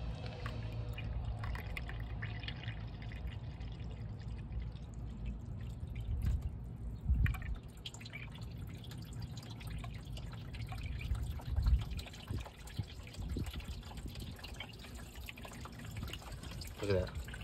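Coolant rushing out of a Honda D16 engine block, a faint steady trickle and dribble of liquid with occasional drips and clunks, at low level throughout.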